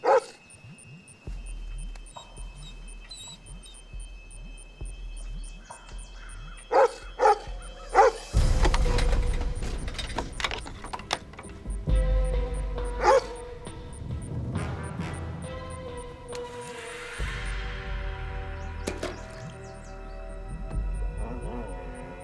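Dog barking and yipping near a well, a run of sharp barks and excited whimpers in irregular bursts, loud and close, mixed with other movement noises and no speech.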